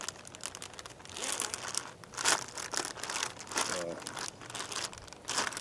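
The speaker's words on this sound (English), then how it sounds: "One thing about a plastic bag is you can't get away from it." Plastic bag crinkling as chicken drumsticks sit in brine, a close, irregular rustle with sharp crackling bursts across several seconds, with speech likely mixed in.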